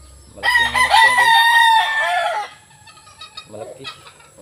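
A large yellow-legged hatch gamecock crows loudly and close, one long drawn-out call followed by a few softer clucks.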